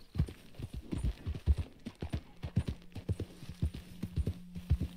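Horse hooves clip-clop at a steady walking pace in Red Dead Redemption 2, with even, close hoofbeats over a faint low hum and no talking.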